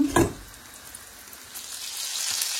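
Tomatoes fry in oil in a pan, probably after aubergines and red peppers. A soft, steady sizzle comes after a brief knock at the start and grows slightly louder toward the end.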